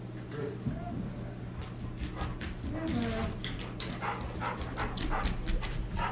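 A snake-searching dog whimpers and gives short yips and barks close by over a steady low hum, with someone talking intermittently around it.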